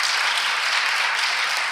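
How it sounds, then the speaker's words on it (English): A school debate competition audience in Johannesburg gives adjudicators a loud, close round of applause, dense, continuous clapping from many hands that fills the whole short stretch evenly. "I thought maybe we will give them a serious round of applause because they are adjudicators."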